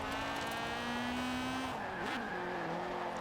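A race car driven hard on a touge mountain road in Forza Horizon 4, its engine holding a steady high drone that drops and wavers through a shift or lift, with tire squeal and skidding under it, loud and close.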